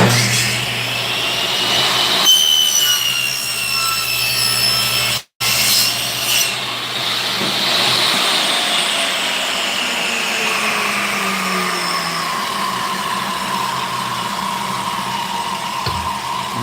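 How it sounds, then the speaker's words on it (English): A table saw cutting wood while making a musky crankbait, a loud continuous whine and rasp with a brief dropout partway, then the pitch drifts down as the blade runs on. "It's going to get loud because we're going to be running the table saw."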